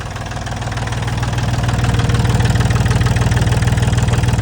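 An Iseki 230 tractor's diesel engine idles loud and close with a steady, rapid knocking pulse that swells slightly in the first seconds, with no talk over it.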